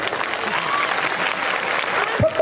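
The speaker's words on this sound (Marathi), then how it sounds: "फक्त बाया टाळ्या वाजवा, बाया हो" Women in an audience clapping on request, a sustained, fairly loud wash of many hands applauding together with faint crowd murmur beneath and a small bump near the end.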